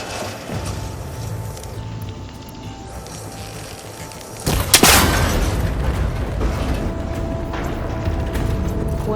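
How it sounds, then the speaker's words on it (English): A cable connector shot and breaking apart in Horizon Forbidden West: a sudden loud metallic crack and burst after quiet ambience, followed by a sustained rumbling, creaking mechanical clatter. "That connector's holding the cables together. It should break if I shoot it."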